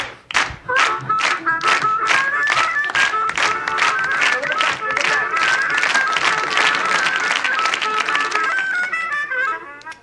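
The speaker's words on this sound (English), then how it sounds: "Everybody clap your hands." An audience at a comedy show claps hands in a steady, rhythmic beat along with a live blues tune, the claps sharp, close and continuous over the music.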